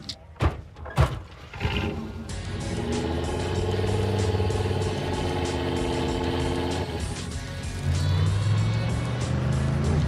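A Pontiac Trans Am drag car from a test drive heard from inside, with a loud, sustained engine roar building and holding steady after a few sharp knocks at the start, climbing again near the end.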